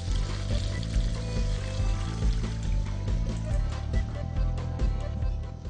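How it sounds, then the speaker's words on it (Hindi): Water poured from the side into a pot of cooking meat, a continuous splashing gush that runs steadily throughout, loud and close, with sizzling cookware noise beneath. "आप कोई आधा लीटर पानी अपने पतीले में डाल दें, लेकिन साइड से डालें"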